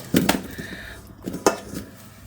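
Soft clinks and scrapes as a spoon transfers strawberries into a metal saucepan, a few separate taps spaced apart, close and fairly quiet.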